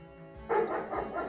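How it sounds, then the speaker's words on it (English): A dog barks outside, a few sharp, moderately distant barks in quick succession after a brief quiet start, with a low room hum underneath. "I heard the dog outside barking and immediately knew that Sammy was going to start barking"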